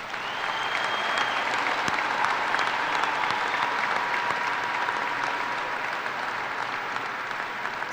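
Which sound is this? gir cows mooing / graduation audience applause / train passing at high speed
graduation audience applause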